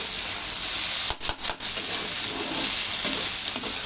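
Lady's finger (okra) stir-fried in a pan for homemade bhaji, a continuous close sizzle broken by a few sharp scraping stirs of the spatula about midway.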